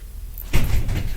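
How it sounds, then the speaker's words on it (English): A door at a home opens or bumps with a short, dull knock and scrape, fairly close and loud, followed by a lingering low rumble. No one speaks. "Who is outside my door?"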